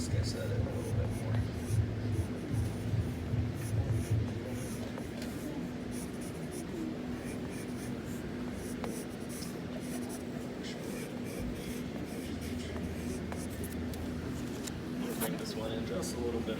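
Pencil sketching an animation drawing, a soft continuous scratchy rubbing of graphite on paper running steadily throughout, close and fairly quiet, beneath a low constant hum.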